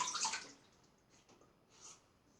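Water splashes as a face is wetted before shaving with a lathered brush and cappuccino-scented soap, a brief burst of splashing at the start that fades to faint dripping and quiet rustle.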